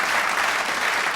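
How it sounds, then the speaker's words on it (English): An audience breaks into brief, dense applause, a loud wash of many hands clapping at once for just over a second. "clapping."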